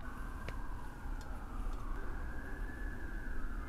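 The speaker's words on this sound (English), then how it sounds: "So there's just sirens." Emergency vehicle sirens wail outside, a faint, distant, sustained tone that slowly rises and falls over low background rumble.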